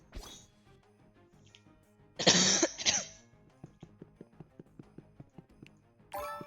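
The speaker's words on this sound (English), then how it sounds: "got a cough too" A single harsh cough bursts out near the middle, loud and close, with quieter background sounds and faint rhythmic taps around it.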